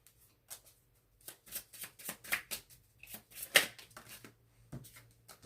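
Tarot cards being shuffled by hand in soft, irregular bursts of riffling and sliding, close and quiet, with brief pauses between shuffles and no talking.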